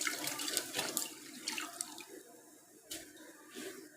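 About 1 kg of water runs and splashes into a metal pressure cooker for beef haleem in uneven bursts, with a brief pause midway before the pouring resumes, close by and moderately loud.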